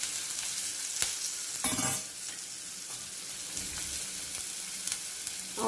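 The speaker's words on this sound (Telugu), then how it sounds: "ఆనియన్స్ కొద్దిగా ట్రాన్స్పరెంట్ అయ్యేంత వరకు దీన్ని ఫ్రై చేద్దాము" Chopped onions fry for dal khichdi, a steady close sizzle in a hot pan that runs the whole time, with a few stirring scrapes and brief louder spatters.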